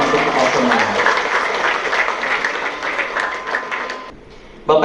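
Sustained applause from a seated audience at a college graduation ceremony, a dense steady wash of clapping that fades out before a sudden loud burst returns at the end, with faint voices mixed in.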